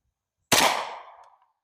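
A single sharp shot from a Ruger LC Carbine in 10mm firing Blazer Aluminum ammunition, a loud abrupt crack out of silence with a short decaying echo tail.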